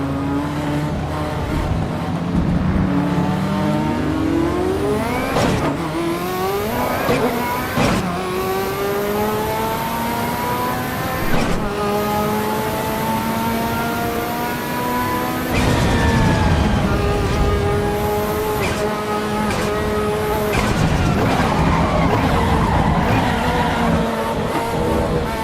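Race cars in the video game ACE in the Foxhole, engines revving and climbing through gears with repeated rising whines, shifts and bursts of tire squeal, loud and sustained throughout with no voices.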